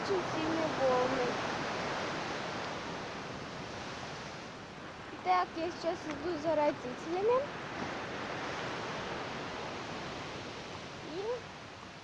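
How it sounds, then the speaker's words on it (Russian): Strong sea waves breaking on the shore near Sochi after a night of rain, a steady broad roar of surf throughout, with a person speaking briefly partway through. "И сегодня очень сильные волны"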